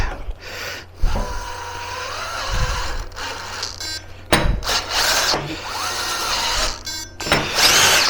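A Metabo GB18LTXBLQ cordless tapping drill whirs in short bursts, its motor pitch rising and falling between starts and stops, loud and close with no speech.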